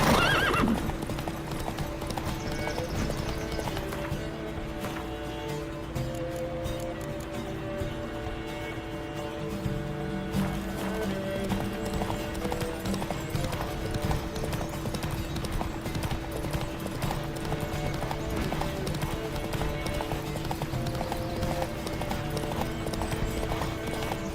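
In a Witcher-style video game race, a horse gallops with constant rapid clip-clopping hooves and neighs near the start, loud and continuous under layered game sound for the whole stretch.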